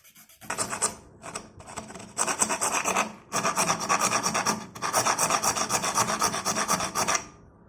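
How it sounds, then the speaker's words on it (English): A file rasps against a plastic scroll wheel and its casing, with close, steady scraping strokes in several long bursts separated by brief pauses. "After filing, the scroll wheel is well fitted in the casing."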